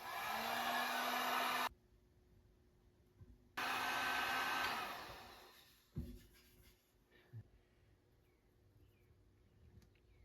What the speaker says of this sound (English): I'm just gonna heat up this with a heat gun